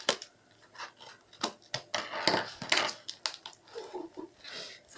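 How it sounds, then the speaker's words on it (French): A cardboard parcel of CDs is pried open, with sharp cuts, crunching cardboard and rustling flaps in quick irregular bursts, close by with no voices. "dès que j'aurai réussi à ouvrir la boîte"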